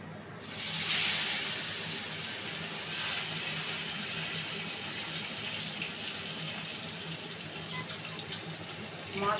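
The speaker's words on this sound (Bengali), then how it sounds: "এইবার আমি মাছটাকে ভাজবো।" Fish rubbed with salt and turmeric frying in hot oil, a loud steady sizzle that hisses up sharply at first and then settles into a constant crackling hiss.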